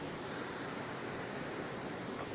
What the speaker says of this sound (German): Hier unten ist auch noch ein Wasserfall.